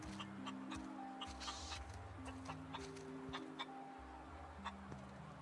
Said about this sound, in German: Ach, Hühner!